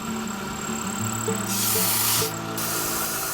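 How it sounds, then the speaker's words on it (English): A short hissing burst of compressed air clears chips from a small end mill during machining, a loud close blast lasting under a second against a steady machine drone, followed by a second brief puff. "mainly I'm using the air blast to keep all the chips cleared"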